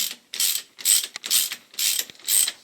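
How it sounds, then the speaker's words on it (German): A long, thick bolt is driven in by ratchet during a clutch change on a VW Passat B7, giving repeated bursts of close mechanical ratcheting in a steady rhythm, roughly six strokes with short pauses between them. "Die dicke Monsterschraube kommt hinten rein. So, jetzt zieht die sich auch rein."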